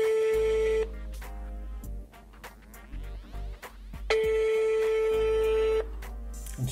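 A telephone ringing on an outgoing call to a lab, two long tones separated by a pause, clear and steady with a brief beep between them.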